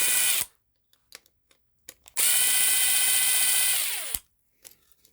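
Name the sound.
power drill removing screws from electronics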